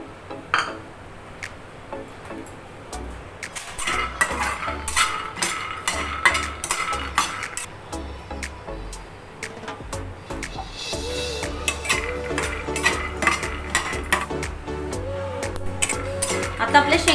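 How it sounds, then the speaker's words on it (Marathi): Peanuts dry-roasting in a pan for poha chivda rattle and scrape steadily under a stirring spatula, with dense clicks and taps running throughout at close range. "आता आपण शेंगदाणे भाजून घेऊया चिवड्यासाठी।"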